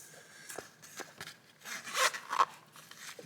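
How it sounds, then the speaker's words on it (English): Zipper on a headlamp storage bag pulled in short rasping strokes, close and fairly loud, with a longer scratchy run near the end. "Very nice zipper."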